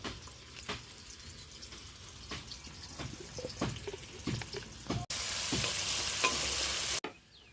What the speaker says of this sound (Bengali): তো পেঁয়াজ মরিচটা ভাজা হয়ে গেছে